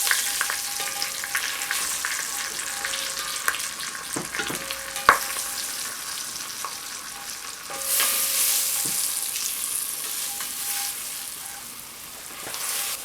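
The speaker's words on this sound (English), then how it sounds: "Just adding our scallions, our pimento seeds and curry powder." Scallions, pimento seeds and curry powder fry in about a tablespoon of sunflower oil for Caribbean curry mutton, producing a steady close sizzle broken by stirring scrapes and a sharp clack, swelling brighter midway before settling.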